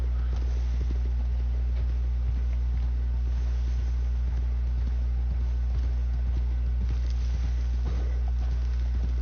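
A horse's hooves clip-clop at a steady walking pace in Red Dead Redemption 2, a regular series of soft thuds over a constant low hum from start to finish.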